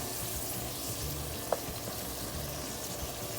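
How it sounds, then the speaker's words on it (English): Spaghetti sauce ingredients fry in a pan while being stirred, giving a steady, moderate hiss with one brief sharp click partway through. "So we're gonna just stir this up for a few."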